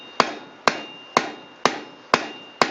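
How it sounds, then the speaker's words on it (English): Rounding hammer striking hot steel on an anvil while forging a horse head bottle opener, six sharp ringing blows at an even, unhurried rhythm, close and loud, each with a short metallic decay. "I'm going to hit the diagonals again with a rounding hammer"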